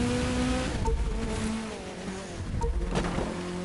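Off-road car engine in The Crew 2 at the Meteor Crater, a continuous revving drone that rises and falls in pitch as the car slides through corners, loud and close with no talk.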